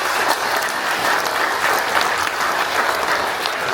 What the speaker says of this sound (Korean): 박수로 축하해주십니다.